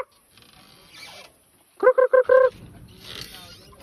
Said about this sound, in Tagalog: Dito ba yung mga manok?